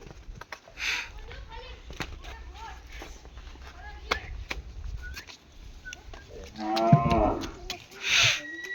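Cows standing in a park moo nearby, a loud drawn-out low call swelling near the end amid scattered knocks, footsteps and bird chirps, with someone talking between the calls.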